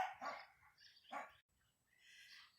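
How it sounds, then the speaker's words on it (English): Dogs barking at home in a few sharp, mid-loud bursts with brief pauses between them, then a quieter, more distant barking or yipping toward the end. "I paused it for a second to let the dogs get it barking out of their system"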